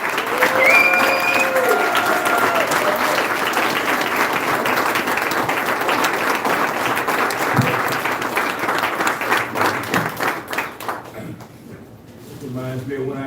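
An audience at a No on 20 political event breaks into sustained, loud clapping that carries on for about ten seconds before thinning out and fading, with a voice heard briefly at the end.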